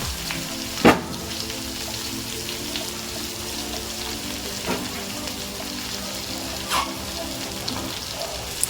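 Green chillies sautéing in a pan with a little rock salt: a steady close sizzle and crackle, with occasional louder pops and stirring clicks scattered across it, and no talking.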